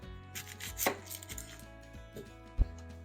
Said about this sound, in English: Now we're going to julienne 1 onion. We'll cut off the top, cut off the bottom,